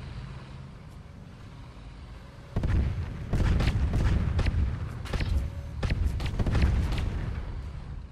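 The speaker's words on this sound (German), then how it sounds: "Boah, das ist aber eine Kanone." Rumbling booms and sharp blasts of tank cannon fire in the game Tanki Online erupt after a quieter engine drone, with several shots in quick succession.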